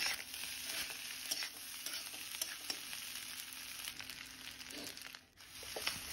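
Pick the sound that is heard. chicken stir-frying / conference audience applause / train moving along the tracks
chicken stir-frying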